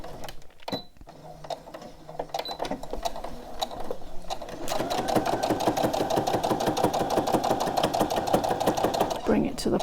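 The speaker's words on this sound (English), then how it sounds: "I just prefer to sew it this way. So I'm sewing from the gap." A sewing machine stitches fabric for a memory bear, rapid rhythmic mechanical clatter that starts in short bursts and then runs continuously and louder, close by.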